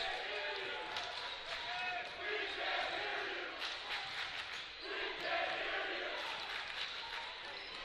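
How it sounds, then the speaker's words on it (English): A crowd at an Emory men's basketball game makes noise in a gym, cheering and rumbling in swelling waves, fairly faint and distant beneath a commentator's voice. "The Emory crowd making some noise."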